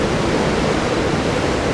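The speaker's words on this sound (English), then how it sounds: "You can see these big waves, they really churn in and then flush themselves over here." Big sea waves churn in and crash against rocks along a shore, a loud, steady roar of broadband surf filling the whole stretch with no pause.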